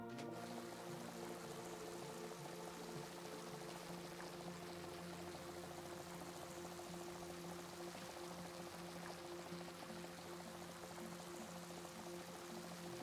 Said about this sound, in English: let's get these topped up with water